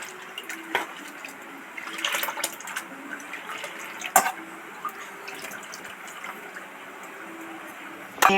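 Khesari lentils being washed in water at home, with soft continuous splashing and trickling, occasional drips and small clinks, fairly close and steady throughout with no talking.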